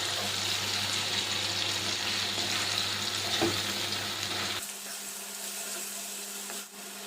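Water rinsed from a grinding bowl pours into a pan of bitter gourd and ground sesame, a steady wash of liquid and sizzling noise that cuts off abruptly partway, leaving a quieter hiss.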